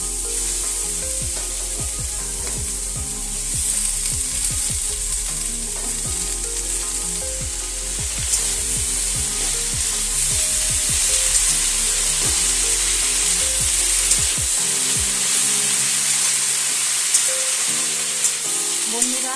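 Fenugreek leaves sizzle steadily in a hot pan after turmeric and salt have been mixed in, with a loud, continuous frying hiss and repeated scraping stirs, then the stirring stops near the end while the sizzle carries on.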